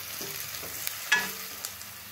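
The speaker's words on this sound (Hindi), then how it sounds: "हम हल्का सा गोल्डन होने तक फ्राई कर लेंगे" Finely chopped onion frying with cumin seeds in a pan, a soft steady sizzle with a few stirring scrapes and clicks.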